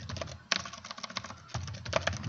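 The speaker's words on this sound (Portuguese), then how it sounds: "Então eu vou digitar também uma sequência de teclas" Rapid typing on a computer keyboard, a dense run of close, crisp key clicks with brief pauses, loud and continuous with no voices.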